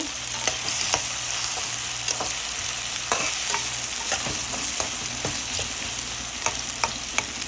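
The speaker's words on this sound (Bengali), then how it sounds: "এখানে একটা মিডিয়াম সাইজের পেঁয়াজ আছে ব্রাউন হওয়া পর্যন্ত ওয়েট করি" Medium-sized onion frying in oil until brown for a hilsa fish and green banana curry, a steady close sizzle broken by frequent sharp clicks of a spoon stirring against the pan, with no voices.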